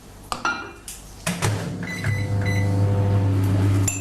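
An 800-watt microwave oven starts after a few sharp clicks and clinks, then settles into a steady, close, droning hum that keeps going to the end.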